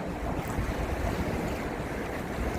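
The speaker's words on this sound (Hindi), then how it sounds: "ठंडी हवा चल रही है" Cold wind blows steadily over Lake Lugano at a lakeside lido, a constant rushing roar mixed with the wash of small waves and buffeting against the microphone.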